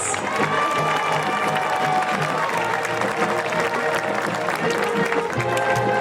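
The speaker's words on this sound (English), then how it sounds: "Let's give one last round of applause for all of these ladies." A large crowd in the stands at a high school homecoming football game applauds and cheers for the homecoming court, a dense, continuous wash of clapping with scattered shouts.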